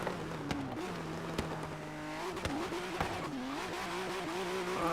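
A modded Ford GT in Forza Horizon 3 roars at speed, a sustained engine note with rising and falling pitch sweeps as it shifts and revs, loud and close.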